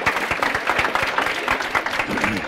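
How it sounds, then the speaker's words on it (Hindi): Students in a lecture hall applaud, a loud, fast burst of many hands clapping with a few distinct sharp claps standing out, continuing steadily throughout. "एक बार ताली बजा दो यार पुणे के लिए।"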